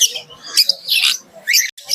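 Pet birds chirp at the Naihati pet market, with bright, sharp tweets and short squawks coming in quick bursts close by, with brief gaps between calls.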